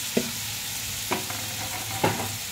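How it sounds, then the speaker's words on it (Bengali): Vegetables for a Bengali vegetarian curry hit a hot pan, giving a steady soft sizzle broken by three brief utensil clanks, close by and without talk. "এইবার আমি সব সবজিগুলো সব ঢেলে দিলাম"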